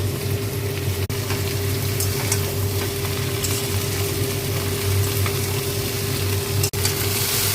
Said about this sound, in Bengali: একসঙ্গে আমি ভাজবো, তাতে ভিন্ডিটাও লাল লাল হয়ে যাবে আর আলুটাও লাল হয়ে যাবে